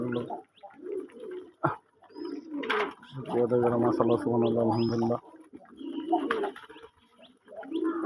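Pigeons at a farm housing red, white and sky-blue-and-white birds coo in low, throbbing bursts at close range, mixed with occasional chirps, while someone speaks at intervals between the calls.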